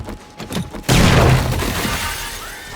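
A grenade goes off in the 7 Days to Die video game after a few soft thumps. A sudden loud burst with a shattering, crumbling tail fades over about two seconds.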